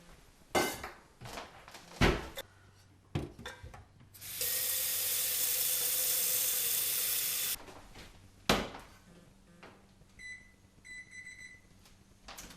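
A metal pot and double boiler insert are handled in a kitchen, giving a few sharp clanks and knocks, a steady rushing spell like running water, and faint ringing metallic tones near the end.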